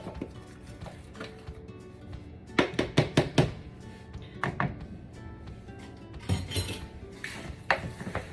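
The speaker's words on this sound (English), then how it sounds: "First, I'm gonna mix my flour." Flour being mixed in a bowl for smothered pork chops, heard as clinking, tapping utensil strikes against the bowl in quick bursts, with quieter scraping between, close and fairly loud, no talking.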